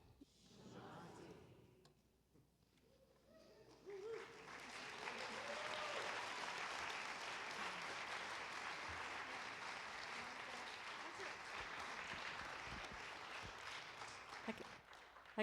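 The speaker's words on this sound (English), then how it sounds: "Let's give her a round of applause." Audience at an afternoon gathering of spiritual music and song breaks into sustained applause, a broad steady wash of many hands that builds after a brief voice and carries on loud for over ten seconds, with scattered cheers inside it.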